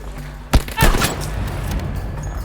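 Gunfire in the video game Battlefield V: a sharp loud shot followed by a short burst of rapid reports, then continuous battlefield rumble in the background.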